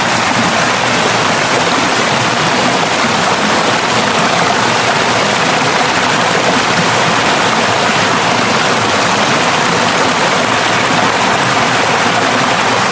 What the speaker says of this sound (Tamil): உங்களுக்கு அந்த தண்ணி போகிற சத்தத்தை மட்டும் பார்த்தீங்கன்னா கேளுங்க